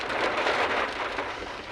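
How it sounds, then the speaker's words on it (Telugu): Steady, dense rainfall hisses throughout, a broad wash of drops pattering on a surface with no voices. "వర్షం పడట్టే ఉంది చూడండి"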